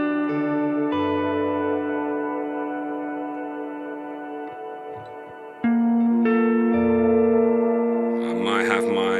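An electric guitar runs through a BOSS GT1000 pitch shifter and harmonist effect that feeds into reverb. Sustained harmonized chords ring out with long reverb tails, a fresh chord is struck midway, and a brief voice is heard at the end.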